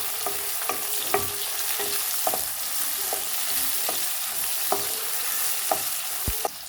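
Onion and tomato sauté in a pan for a bitter gourd poriyal, a steady close sizzle broken by repeated spatula scrapes and stirring taps, with no one talking.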